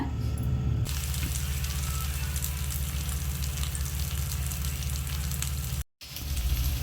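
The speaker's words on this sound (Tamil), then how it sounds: "ஃபிஷ் ஃப்ரை செய்ய போகிறோம். தவா வச்சுட்டு எண்ணெய் ஊற்றிக்கலாங்க" Fish fries in oil on a tawa with a dense, steady crackling sizzle heard up close and without voices. The sound cuts out briefly near the end, then returns.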